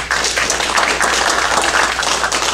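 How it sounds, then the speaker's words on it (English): A church congregation at a Sunday worship service applauds, a close, loud, dense burst of clapping sustained evenly from start to finish. "We're applauding because you kept it short."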